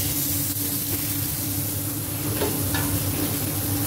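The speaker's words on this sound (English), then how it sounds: "Deep frying the samosas." Oil sizzles and crackles steadily as samosas deep-fry, a close, continuous hiss with faint scrapes and no voices.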